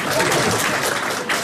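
Steady audience applause fills the whole stretch, a dense wash of many hands clapping at an even, sustained level.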